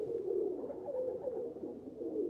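Pigeons in the TKKG video game coo softly in a low, rolling murmur, several repeated throaty calls close by with no other sound.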